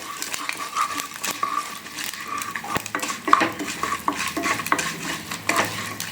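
Mustard seeds and chana dal frying in hot oil for curd rice tempering, a busy crackling sizzle with frequent pops and metallic spoon clinks against the pan throughout.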